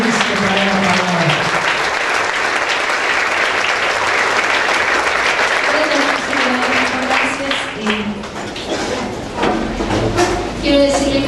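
Church congregation applauding loudly and steadily for about eleven seconds, a dense sustained clatter of clapping that holds throughout with a slight dip near the end, with a voice or music tone faintly beneath.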